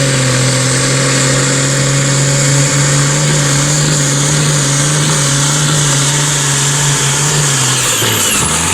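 A tractor engine roars close and loud, holding a steady heavy drone while revving, then dropping away sharply near the end.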